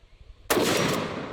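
A single shot from a GM6 Lynx bullpup .50 BMG rifle fires after a brief quiet moment, a very loud, close, sharp blast followed by a long rolling boom that slowly fades.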